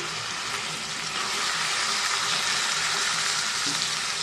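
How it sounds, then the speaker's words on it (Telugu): Food frying on a low flame with turmeric and salt, a continuous close hissing sizzle that swells slightly louder partway through, with no voices. "సింగిలో పెట్టుకొని ఫ్రై చేసుకున్నాం ఫ్రెండ్స్."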